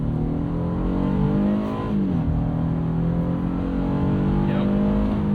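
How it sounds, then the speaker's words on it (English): A 2022 Honda Passport Trailsport V6 with a nine-speed automatic accelerates from inside the cabin, its engine note climbing steadily, shifting pitch as VTEC engages, then continuing to pull at a moderate, continuous level. "You can hear when VTEC kicks in."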